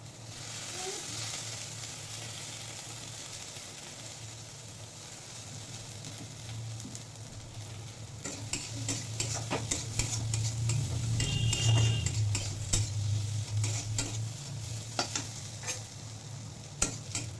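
Kharkol leaves frying in a pan while being stirred, a soft, steady sizzle joined by scraping stirs and sharp clicks of a utensil against the pan that grow busier partway through.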